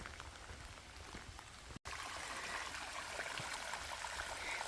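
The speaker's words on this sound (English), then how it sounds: "It's been a long time since we've heard water rushing down like that." Rain falls steadily while water rushes down a wet woodland path near Mam Tor, a dense continuous hiss and patter with a brief drop-out partway through.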